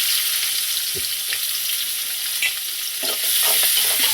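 Onions frying and sizzling in hot oil for paniyaram, a steady loud hiss throughout with a few stirring scrapes, close up and without talk.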